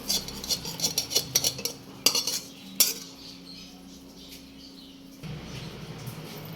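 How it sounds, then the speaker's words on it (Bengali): Spicy semolina being spooned onto two plates, with a run of clinking metal spoon-on-plate taps and scrapes that stop about halfway through, then a quiet, steady background. "চলো এবার থালায় বেড়ে নেব দুজনের জন্য দুটো প্লেটে ঢেলে নেবো"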